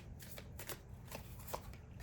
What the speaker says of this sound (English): I'm going to pull 2 cards.